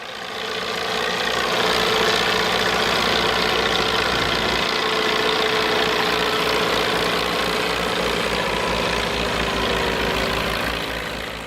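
A B-Somtrack tractor, two Somme 40 units coupled into a 90 hp four-wheel-drive machine, idling with a loud, steady, close diesel rumble and even rhythmic knock throughout.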